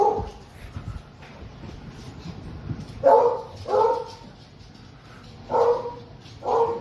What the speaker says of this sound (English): this is just to show that Mandy was the herder dog